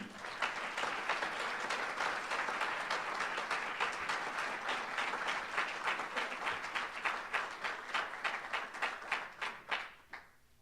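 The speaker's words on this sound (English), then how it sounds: "please give a big round of applause to 2014 Georgetown Athletics Hall of Fame inductee, Richard Fuller." A large crowd at a college athletics Hall of Fame induction ceremony claps for a 2014 inductee, sustained, even applause lasting about ten seconds before tapering off quickly at the end.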